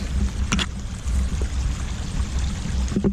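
Steady broadband rush of river water flowing close by, filling the whole stretch alone, with a couple of brief splashy bursts near the start and end; no one talks.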